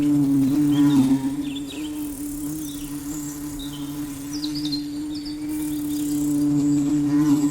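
Bees buzzing around flowers in a garden, a steady close drone with a low hum, joined by faint scattered bird chirps in the background.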